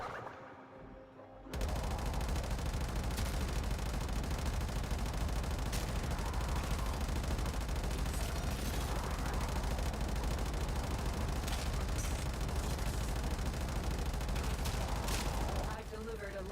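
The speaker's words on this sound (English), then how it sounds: "A lot of explosions there." Explosions and gunfire in the video game Warframe form a dense, continuous barrage of blasts and rapid shots. It starts abruptly after a short quiet moment, then stays loud and sustained.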